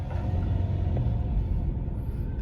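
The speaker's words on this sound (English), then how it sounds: "I'm just going to raise the revs on my van" A van engine revs steadily while jump-starting a 2005 Kawasaki Vulcan VN800 motorbike, giving a constant close low rumble with no clear rise or fall, heard alone.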